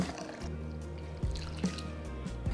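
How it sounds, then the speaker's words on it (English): Poha (flattened rice) is rinsed in water in a kitchen, giving soft, close trickles, light drips and a few small splashes over a quiet background. "Wash the poha thoroughly about 2 to 3 times"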